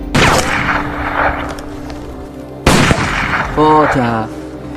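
Gunfire at a shooting range in a film scene: two sharp, loud reports about two and a half seconds apart, ringing over a steady low hum, with a voice speaking briefly near the end.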